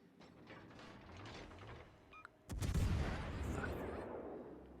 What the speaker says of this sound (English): Shots out on the Zeton.